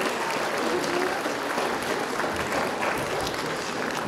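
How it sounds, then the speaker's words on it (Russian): Applause from an audience at a children's music concert in Molodechno, greeting a nine-year-old cellist; steady dense clapping with some crowd noise throughout. "Ваши аплодисменты."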